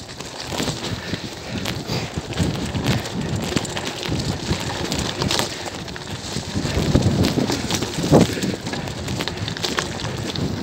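Loud, continuous gusting wind roaring and buffeting a microphone, with a rushing broadband noise that swells and eases throughout, no voices.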